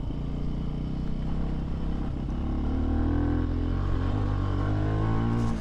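A 2022 Benelli TNT 135 motorcycle ridden off-road through mud, its small engine holding a steady droning hum with rising pitch as it pulls, close and continuous without pauses.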